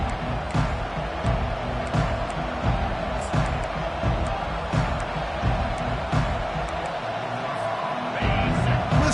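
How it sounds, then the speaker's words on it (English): A large stadium crowd roars continuously, a dense wash of cheering and shouting with occasional louder swells, with no clear single voice. "Listen to the crowd energy here in the early going."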